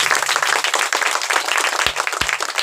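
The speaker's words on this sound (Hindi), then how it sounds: "एक बार जोर से ताली बजाएंगे यीशु के लिए" A church congregation claps loudly for Jesus during a Hindi sermon, a dense, steady wash of many hands with two sharp thumps near the end.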